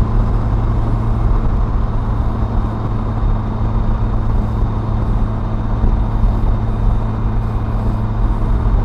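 A 2021 Polaris Slingshot S three-wheeled vehicle drives along with a steady, loud engine hum and road rumble that holds constant throughout, with no voices.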